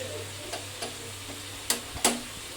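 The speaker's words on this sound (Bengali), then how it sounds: "মাংসটা এবার ভালো করে কষাতে হবে যতক্ষণ না তেল ছাড়ে।" Marinated chicken sautéing in oil for a home-style chicken curry, giving a steady low sizzle broken by a few sharp spoon scrapes and clanks against the pan, close and fairly quiet, with no voices.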